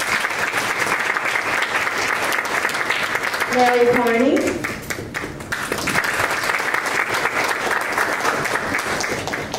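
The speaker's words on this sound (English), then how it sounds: "Give him a round of applause." Applause from a board meeting audience fills the room steadily throughout, with someone briefly speaking over it midway.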